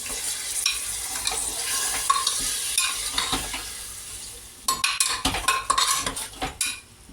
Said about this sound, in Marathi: आता मी हे मॅरिनेट केलेलं चिकन त्याच्यामध्ये टाकते